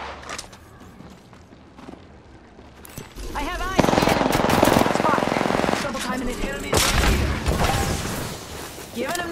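Rapid automatic gunfire bursts and booms from a shooter video game, Apex Legends, growing louder partway through, with in-game voice lines and talk mixed in.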